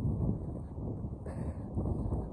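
Wind blowing steadily across a hillside trail, a continuous low rushing roar buffeting the microphone, fairly loud and close throughout with no voices.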